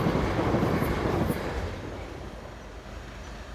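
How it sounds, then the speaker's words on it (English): A train passes near a village railway line, a broad roaring rumble with wind buffeting that fades gradually over a few seconds. "That was a train, if anyone's wondering."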